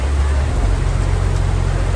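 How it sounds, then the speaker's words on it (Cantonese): Heavy rain falls in Sri Lanka as a steady, dense hiss of downpour, close and constant throughout with no pauses. "好大雨，好大雨！"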